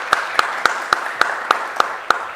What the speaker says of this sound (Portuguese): Aplaudir, por favor